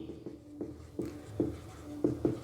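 Pen scratching out notes on paper during a geography lesson, with short strokes coming in an irregular rhythm and stopping and starting. It is close and quiet, and no one speaks.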